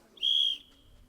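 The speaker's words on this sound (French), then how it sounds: "Dès que le sifflet aura retenti" A referee's whistle is blown once to start a timed game on a TV game show, giving a single short, clear, shrill blast of about a third of a second with faint background noise afterward.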